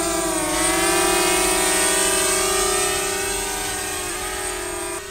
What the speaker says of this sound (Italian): Quindi metto in moto, faccio partire i droni e vediamo la loro reazione in volo.